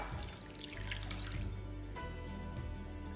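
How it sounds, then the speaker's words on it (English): Tap water runs steadily into a tin in a home kitchen while Moroccan lamb shanks are cooked, a continuous close rushing stream with a slight shift in pitch as the container fills. "I'm going to fill that up with water"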